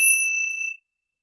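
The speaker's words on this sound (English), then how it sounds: "You can also ring a bell." A single bell struck once gives a clear, bright ring that sustains for just under a second and then stops, heard alone with no talking.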